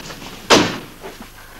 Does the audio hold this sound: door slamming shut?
yes